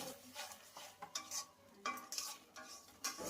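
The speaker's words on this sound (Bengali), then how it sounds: "এইবার সেটিতে পরিমাণ মতো হলুদের গুঁড়ো এবং লঙ্কার গুঁড়ো দিতে হবে এবং সামান্য জল দিয়ে নাড়াচাড়া করতে হবে।" Ash gourd being stirred in a pan with turmeric, chili powder and a little water: a run of soft scraping and clinking strokes, close and moderately loud, with no voices.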